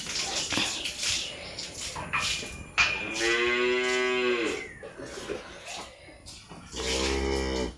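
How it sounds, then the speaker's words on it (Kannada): A newborn female calf moos for its mother in two drawn-out, close calls, the second lower and throatier. Short thuds and faint background sounds fill the gaps between calls. "ನೋಡಿ, ಕರೆಯುದು ನೋಡಿ ಅಮ್ಮ."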